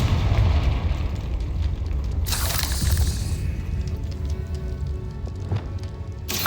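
A Confringo fire spell blasts in Hogwarts Legacy, with a heavy rumbling explosion, a sharp crackling burst in the middle and another flare at the end over a low roaring bed.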